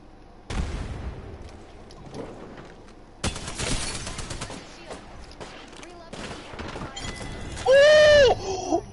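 Gunfire in an Apex Legends match, with sharp rapid bursts and single shots going off near and far, loud cracks alternating with quieter stretches as players talk over the shooting.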